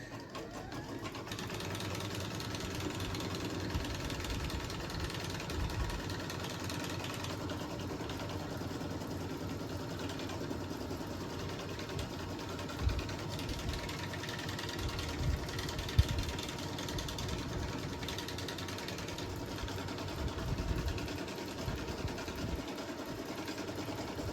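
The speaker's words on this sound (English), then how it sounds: "now we're gonna stitch the placement line for the main fabric" A sewing machine runs steadily, stitching a placement line through the main fabric of a patriotic eagle mug rug, with a continuous motor hum and fast needle rhythm throughout and no talking.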